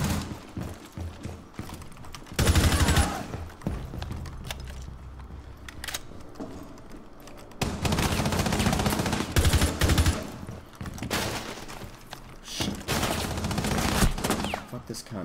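Gunfire in the Rainbow Six video game, with shots coming through a wall. It arrives in loud, dense bursts and volleys separated by quieter stretches of game ambience.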